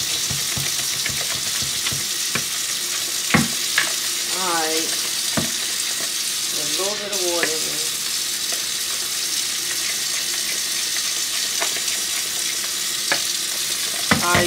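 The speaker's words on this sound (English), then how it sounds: "make sure you stir it real good" Food frying in a pan is stirred, with steady broadband sizzling throughout and scattered scraping strokes and clinks from the utensil against the pan, all close up with no speech.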